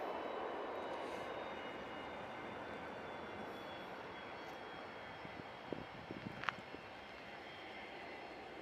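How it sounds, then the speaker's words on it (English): A Pilatus PC-24 business jet passes over Manchester Airport, its engine roar a steady broadband drone throughout, joined by a few brief clicks and a short sharp tone near the end. "little NetJets is coming over"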